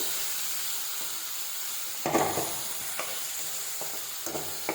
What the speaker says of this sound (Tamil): வெங்காயம், தக்காளி, கருவேப்பிலை, கொத்தமல்லி அதெல்லாம் போட்டு நல்லா வதக்கி விட்டுக்கலாம்.